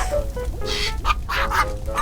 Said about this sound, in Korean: 닭이 또 나와?